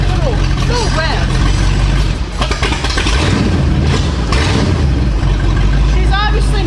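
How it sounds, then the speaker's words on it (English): An early fuel-injected car engine, cold and running with no exhaust past the headers, revs loud and raw close by in repeated rising and falling surges over a rough idle, with voices talking over it. "But you can hear a little rev."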